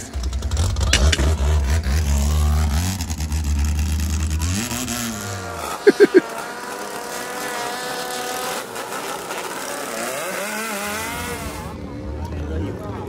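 Turbocharged longtail Thai riverboat engines racing in Bangkok give a loud, buzzing, revving roar for the first few seconds, then drop away, leaving voices talking.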